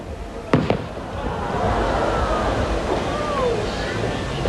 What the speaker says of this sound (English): I think I'll just stop talking and let you see the fireworks live